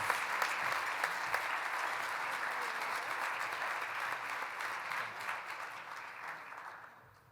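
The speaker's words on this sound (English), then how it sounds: "let's give one more round of applause to these bright stars" An audience at a business hall of fame gala gives a round of applause, steady dense clapping at a moderate distance that carries on for several seconds before tapering off at the end.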